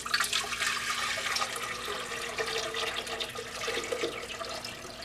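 Distilled water pours steadily into a VEVOR water distiller with a rushing, splashing sound for several seconds, fairly close and continuous, with no talking.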